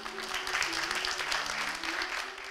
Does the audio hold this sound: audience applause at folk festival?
yes